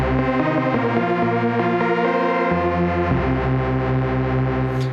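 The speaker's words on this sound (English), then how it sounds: "let's add a reverb, and we adjust a little bit the wet effect" A sustained chord from the Quokka synth on an Elf Audio Koala sampler, with a wash of reverb and some distortion, shifting notes ringing out steadily and loudly.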